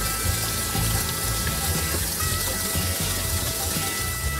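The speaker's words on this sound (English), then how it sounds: "we drain and rinse those beans because they are sitting in a ton of salt" Canned pinto and kidney beans are drained and rinsed under a running tap, a steady, loud rush of water splashing continuously into a sink with no talk.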